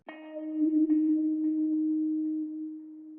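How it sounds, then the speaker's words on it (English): A single guitar note is plucked and rings out steadily, clean and sustained, fading gently with no other sounds. "And then next I added this guitar that sounds like this."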